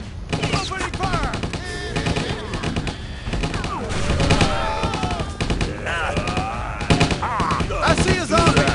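Gunfire in the zombie video game Stubbs the Zombie, dense bursts of rapid shots and fusillades under frantic shouting game voices, loud and nearly continuous.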